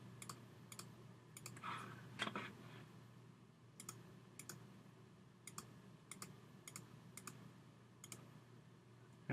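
A computer mouse clicks over and over while someone traces a basic shape in drawing software. The taps are light and sharp, spaced at uneven intervals, and sit close to the mic over a low steady hum.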